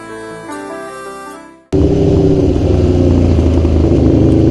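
A 2017 Aprilia RSV4 RF with an SC Project S1 Low exhaust revving up: a rising tone cuts out, then a loud, close, raspy roar holds steady to the end.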